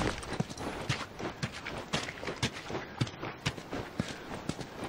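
Horse hooves clip-clopping in a steady walking rhythm while riding in The Last of Us video game, fairly quiet, with soft background ambience.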